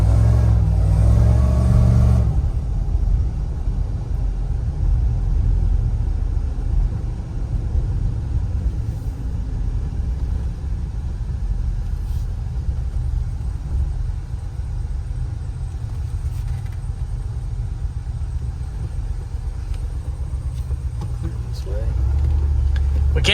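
An LT4-powered Cadillac Escalade, still on its startup tune, rumbles steadily on the road with a deep, continuous engine drone and road noise throughout, swelling slightly at the start and end as people talk inside the cabin.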